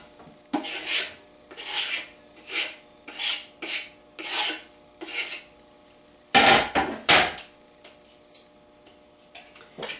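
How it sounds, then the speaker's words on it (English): A cleaver slices through dehydrated onions in a series of short, dry, raspy crunching strokes, about a dozen separate cuts with brief pauses between them, close and clear with no talk. "So I'm going to take my cleaver here and cut through them"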